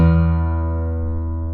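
Low sustained bass notes ring out from an Altman AD2 acoustic guitar with a cocobolo body and Adirondack top, one strum decaying steadily with rich low harmonics, close and alone.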